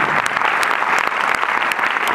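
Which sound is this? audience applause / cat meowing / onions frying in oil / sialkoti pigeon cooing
audience applause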